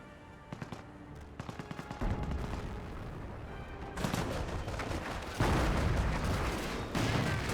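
Gunfire in a Company of Heroes battle: sparse early shots building into dense overlapping machine-gun bursts and heavier artillery-like blasts, loud and continuous with no talk.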